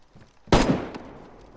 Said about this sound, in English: The shooting, there's more than one. They're both shooting.